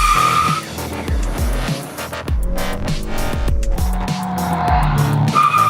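A Honda with a manual transmission launches hard, tires squealing loudly over a surging engine, with quick rev spikes and gear changes in repeated bursts close by.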